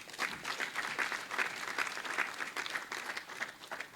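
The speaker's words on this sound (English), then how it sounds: "Can I get a clap out there?" An audience at a public speaking event breaks into sustained applause, a dense, even patter of many hands clapping that continues steadily at moderate volume without pause.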